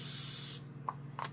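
Cooking spray hisses from an aerosol can into a well-used metal cake pan in one steady burst of about half a second, followed by a couple of faint clicks and light taps.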